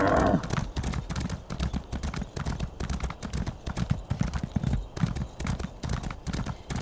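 Horse hooves clip-clop steadily in the video game Elder Scrolls Online, a brisk even rhythm of close, moderately loud hoofbeats running throughout.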